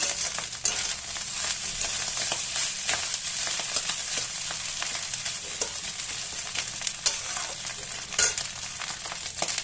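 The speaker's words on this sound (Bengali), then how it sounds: "এই যে ভাত ভাজা হয়ে গেছে আমার, দেখো গ্যাসটা আমি বন্ধ করে দিচ্ছি।" Rice being stir-fried in a pan on a gas stove, giving a steady close sizzle with scattered scraping clicks from stirring throughout.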